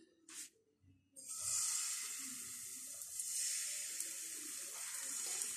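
Patisapta pitha batter spooned into a hot oiled pan bursts into a loud, steady sizzle after a few soft clatters, holding strong and continuous to the end.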